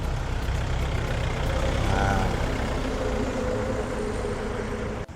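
A used Yanmar EF514MU 51-horsepower tractor's diesel engine runs steadily at close range, a continuous low rumble with a rough, throbbing texture that stays even throughout and cuts off at the end.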